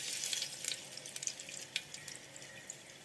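Whole spices crackle in hot oil in a pressure cooker for mutton handi, with dried red chillies, cumin seeds, black peppercorns, cardamom, cloves and cinnamon; a faint, steady sizzle carries scattered sharp pops and spits.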